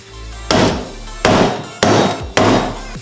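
A hammer strikes four times in a steady rhythm, close and sharp, seating a U-joint clip on a Dodge Raider in a driveway. Each whack rings briefly with metallic decay, and no voices are heard.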